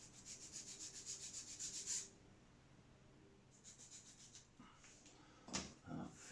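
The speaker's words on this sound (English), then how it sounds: "Just going to sand the bottom of this flat." Sandpaper rubbed back and forth along the bottom of a Fokker D7 model's lower wing part to flatten it, a fast run of close scratchy strokes that stops, then returns in short bursts.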